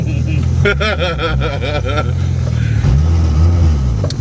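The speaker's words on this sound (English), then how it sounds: "So the car's running E85 right now" A Honda Integra Type R running on E85 fuel idles and revs with a loud, close engine drone, rising and falling in pitch during short revs, while people talk over it.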